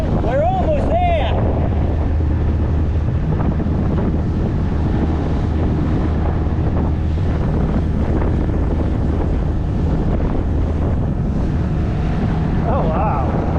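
A boat engine hums steadily at full throttle beneath strong wind buffeting the microphone and water noise, continuous and unbroken throughout.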